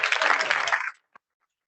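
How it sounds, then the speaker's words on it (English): A short, close burst of audience clapping at a Harvard LGBTQ+ rights panel stops abruptly after about a second, followed by one stray clap and then silence. "A big round of applause for Dr. Aqsa Shaikh"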